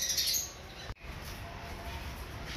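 Birds calling in an aviary holding doves with chicks: a short burst of chirps and squawks at the start, then quieter background chatter with a single sharp click.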